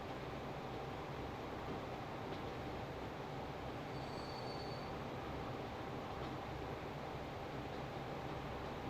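Trains in Transport Fever 2 run on high-speed Shinkansen track, giving a continuous low rumble with faint wheel squeal, steady and quiet with no talk.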